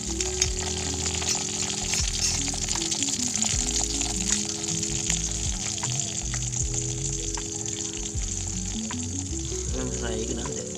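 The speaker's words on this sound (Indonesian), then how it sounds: "di sini kita mau goreng goreng tempe" Tempeh mendoan frying in hot oil during outdoor garden cooking, a steady, dense sizzle that runs the whole time over a low tonal bed, with occasional soft clinks.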